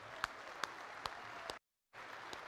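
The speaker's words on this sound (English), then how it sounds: "Applaud them, everybody." Applause from a party conference audience for election candidates, a broad wash of clapping with a few sharper claps standing out, briefly cut to silence before resuming.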